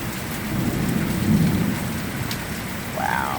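A spring thunderstorm in Upper Marlboro, Maryland, heard from a front door: heavy rain pours steadily while a deep roll of thunder swells and fades, with a faint brief high chirp near the end.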